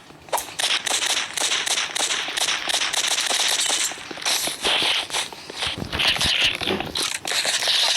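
Gunfire from a sniper rifle in a first-person shooter match, sharp shots mixed with other game effects and clatter, dense and loud throughout, with a voice talking over parts of it.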